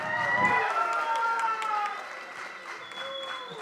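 Audience applause at a Tamil film's audio launch event, clapping from the crowd mixed with a voice and music, fading somewhat toward the end.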